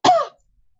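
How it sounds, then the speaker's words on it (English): A short, wet cough lasts about a quarter second, alone and close, from a player acting out a character coughing up blood during a tabletop fantasy game session. "Cough up a little bit of blood."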